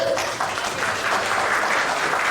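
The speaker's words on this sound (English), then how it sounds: "Last, round of applause, people." Audience applause at a corporate rewards and recognition event, a dense, loud, sustained wash of clapping from a crowd, heard alone.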